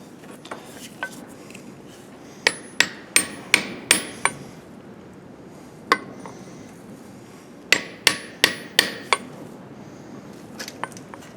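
Sharp metallic hammer blows on a socket used as a seal driver, tapping an axle seal into a Case IH MFWD axle, in quick bursts of four to six strikes separated by pauses, close and clear.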